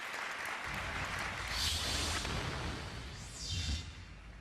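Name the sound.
audience applause at Amway convention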